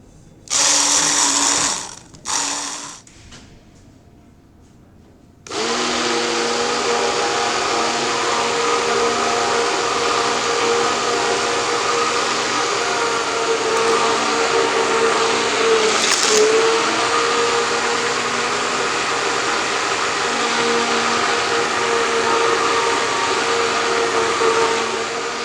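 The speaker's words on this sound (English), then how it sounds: "And now with the immersion blender, I am going to continue mixing" An immersion blender mixes a glaze for a tangerine cheesecake, starting with a few short bursts and then running as a loud, steady whir for about twenty seconds.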